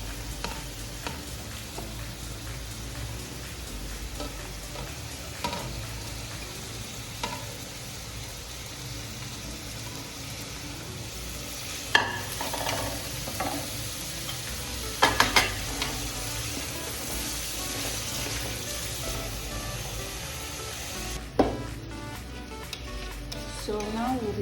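Pepper stirred and fried into Nigerian fried rice, giving a steady sizzle with scraping stirs and a few sharp clatters of the spoon against the pot, close and continuous throughout.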